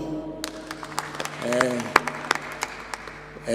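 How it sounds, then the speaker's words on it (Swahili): A church congregation claps during a Kikuyu service, a brief patter of scattered hand claps under and between a speaking voice. "Jipigie makofi."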